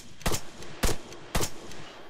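Three sharp, evenly spaced gunshots ring out in the military shooter game ARMA 3, each a loud, short crack with a brief tail, and no voices are heard.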